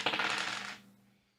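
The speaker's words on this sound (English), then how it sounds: "Roll that dice." Dice are rolled during a lively home game, giving a single brief clatter that rattles for under a second before fading into quiet.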